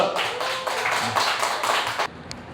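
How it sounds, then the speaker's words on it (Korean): An audience at a Korean church Wednesday service claps steadily to welcome a missionary, a dense patter of many hands that runs for about two seconds and then stops short, with one lone clap after. "큰 박수 환호 부탁드리겠습니다"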